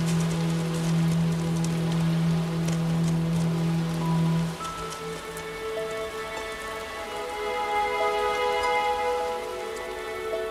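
Steady rain falls at high altitude in the African highlands, a dense continuous hiss of drops with a low tonal hum fading out partway through.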